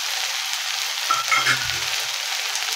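Chopped vegetables sizzle in a pan over a high gas flame, giving a constant bright hiss with a brief low rumble of stirring near the middle.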